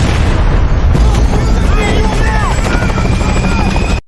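Helicopter during a special forces rescue in a kidnapping action movie, loud continuous rotor thrum under booming impacts, gunfire-like bursts and shouting voices.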